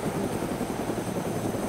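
A helicopter in the video game DayZ gives a continuous, loud rotor and engine roar that holds steady throughout with no talk over it.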